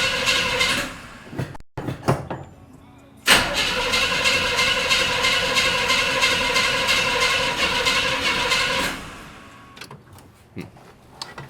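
A junk car engine cranks and tries to start, short bursts of starter grinding followed by a long stretch of rough, sputtering cranking that stops, then a few more brief attempts.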